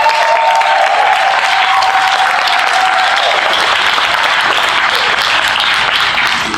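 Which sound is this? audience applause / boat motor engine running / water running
audience applause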